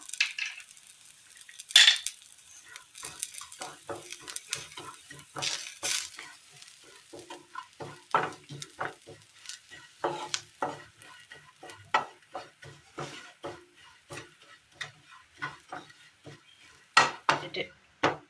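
Grated coconut roasting with coriander powder, chili powder and chicken masala in a pan, with repeated scraping strokes of a spatula over a light crackle, close and rhythmic throughout.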